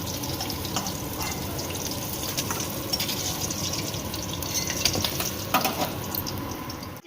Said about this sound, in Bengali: এবার মাছ ভাজা তেলেই ভেজে নিচ্ছি মাছের ডিমের বড়া।